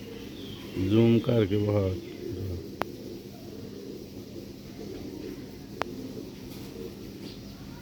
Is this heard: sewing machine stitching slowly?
no